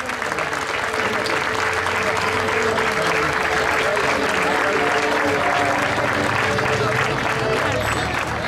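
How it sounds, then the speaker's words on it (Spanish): A crowd applauding at an award ceremony for the Mayos contest winners, dense sustained clapping that holds steady throughout, with voices and crowd murmur mixed in beneath the hands. "Y vuelvo a pedir, ahora sí, con un poco de más energía, un aplauso para todos ellos"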